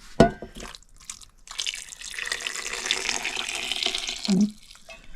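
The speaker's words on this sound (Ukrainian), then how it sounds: "трохи водички доливати" Water is poured from a container into a pot of peppers cooking in a home kitchen, making a steady splashing gush for about three seconds that ends with a brief low gurgle.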